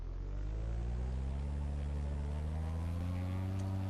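A steady low video game aircraft engine drone rises slowly in pitch as the plane powers up for takeoff, smooth and continuous with no voices.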